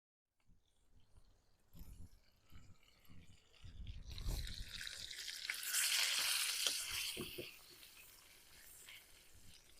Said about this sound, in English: I got this bacon cooking